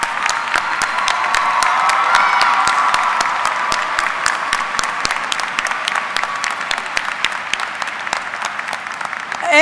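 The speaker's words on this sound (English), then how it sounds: "we give them a big round of applause" A graduation ceremony crowd applauding the teachers at Farmington High School, dense sustained clapping with scattered louder claps and faint cheering, steady throughout.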